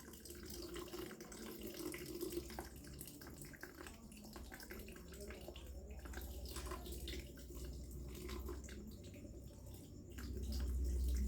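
Water pours quietly into a container for treating chickpea seeds, a faint continuous trickle and splash that swells slightly louder near the end.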